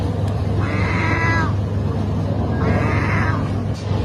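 Two drawn-out, cat-like meows, each about a second long, sound a second apart over a steady low background hum; a seagull in Turkey is imitating a cat.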